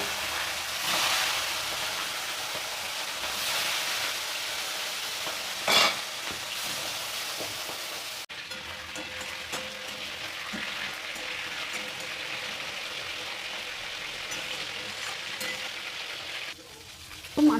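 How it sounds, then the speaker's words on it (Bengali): Bhetki fish head frying in hot oil in a wok, a steady broadband sizzle running throughout with a couple of sharper crackles or pan knocks near the start and end, no voices. "একটা পাত্রে মাছের মাথাটা ভাজবো তার জন্য পরিমাণ মতন তেল দিয়ে দিচ্ছি কড়াইতে"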